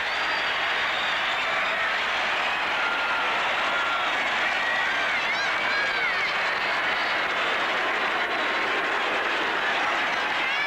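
A Lambeau Field crowd roars as the Green Bay Packers beat the Chicago Bears in a 1981 game, a dense, steady wall of cheering and applause lasting over ten seconds without a break.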